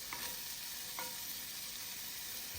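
Sausage sizzles steadily in a frying pan, a faint, even crackling hiss with a couple of light clinks, heard alone without talk.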